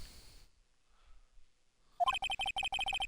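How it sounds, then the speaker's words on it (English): A cell phone ringtone from the Phoenix Wright: Ace Attorney video game chirps in a quick, repeating electronic melody, loud and close, starting after a short quiet gap. "I heard a phone ring just now."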